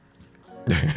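A goat bleat from the Minecraft video game: near silence, then one loud, abrupt, harmonic cry that holds for a moment before cutting off.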